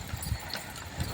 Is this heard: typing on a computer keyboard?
no